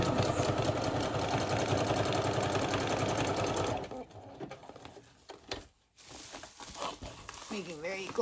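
A sewing machine stitches close zigzags across a bubble envelope journal cover, running loud and steady for about four seconds before stopping. Quieter handling and rustling noises follow.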